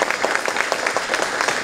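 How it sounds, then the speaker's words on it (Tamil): A short burst of steady, dense audience applause fills the hall at a Tamil movie audio launch, loud and even throughout. "பெரிய கைத்தட்டல் தயவு செய்து கொடுங்க"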